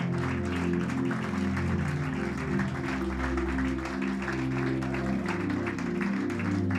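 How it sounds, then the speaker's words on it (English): A church congregation claps steadily in a sustained round of applause, while organ or keyboard music carries beneath it throughout. "Can we give a big round of applause for those who are coming forward?"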